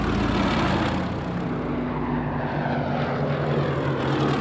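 Propeller-driven WWII aircraft engines drone steadily during a Luftwaffe raid of about 100 enemy aircraft on Dover, a loud continuous hum with pulsing low harmonics and no voices.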